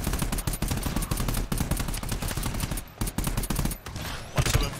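Rapid automatic gunfire in the GTFO video game, bursts of sharp shots rattling almost continuously with brief gaps, fairly close and loud, no talking over it.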